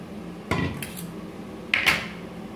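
Cooked rice being stirred with lemon juice in a pot for lemon rice, two distinct scraping clanks of a utensil against the metal pot, separated by quiet.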